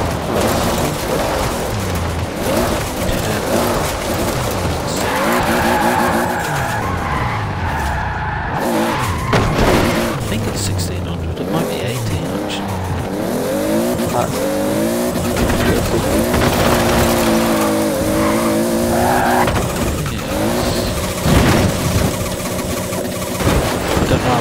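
Turbocharged engine of a 1992 Toyota Celica GT-Four RC ST185 drones loudly and close, revving up and down through gears with rising and falling pitch, continuous throughout.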